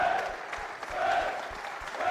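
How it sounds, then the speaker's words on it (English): Warm applause from the opposing army football team as the Engineer Regiment winners of an Army FA Challenge Cup final step up for their medals, steady clapping from a crowd at moderate distance, continuous for the whole stretch. "they receive warm applause from their opponents, 3 Army Air Corps"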